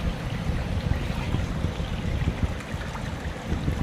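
Cold spring water running down from the hills in a stream near a village hill shrine, a loud, steady rushing and burbling flow close by, with no voices.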